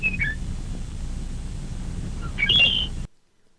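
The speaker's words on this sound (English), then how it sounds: "The full adult song, which in this species sounds like this." A songbird's full adult song, a few clear whistled notes near the start and a brighter, louder phrase toward the end, heard alone over low background rumble.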